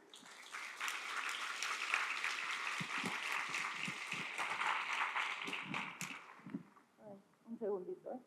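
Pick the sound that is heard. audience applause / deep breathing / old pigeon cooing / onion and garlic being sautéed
audience applause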